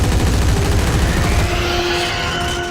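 Rapid, sustained weapon fire in Dead Space aimed at an alien boss's tentacles sounds as a loud, rattling burst that carries on throughout, with a sustained tonal whine surfacing midway.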